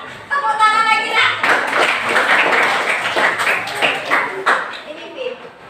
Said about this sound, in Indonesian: Tepuk tangan lagi lah.